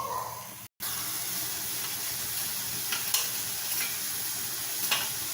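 Tomatoes sautéing in a pan for a Tamil-style mushroom gravy give a steady, close sizzle and hiss, with a few brief stirring scrapes and one short cut to silence near the start.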